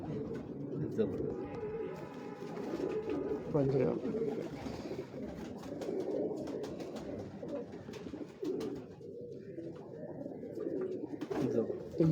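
A flock of pigeons keeps up a soft, continuous cooing on a rooftop in Lahore, heard close and moderately loud beneath someone speaking almost throughout.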